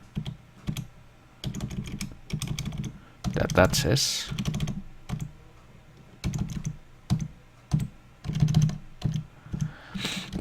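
Computer keyboard keys pressed in quick bursts to solve a puzzle in a PC game, clusters of sharp close clicks separated by short pauses, with a voice talking over parts of it.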